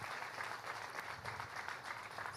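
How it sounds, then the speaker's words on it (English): An audience at a literary festival applauds, a steady wash of many hands clapping at moderate distance, fairly quiet and sustained throughout. "I think that deserves a round of applause"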